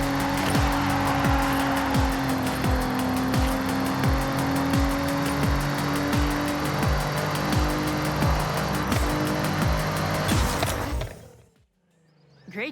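A turbocharged car engine upgraded in Forza Horizon 6, roaring close and loud through repeated rising gear pulls with rhythmic shift drops and a steady whine, then cutting out abruptly near the end.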